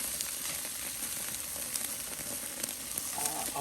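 Salt and pepper chicken wings sizzle and crackle on a grill in a dense, steady hiss, with small pops scattered throughout and no talk.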